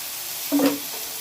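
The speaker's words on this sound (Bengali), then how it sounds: "তেলের মধ্যে আমি লঙ্কা চারটে দিয়ে দেব এবার চিংড়ি মাছের মাথাটা দিয়ে দেব" Prawn heads and four green chillies dropped into hot oil in a Bengali home kitchen, giving a brief soft sizzle and spatter over a steady hiss of frying.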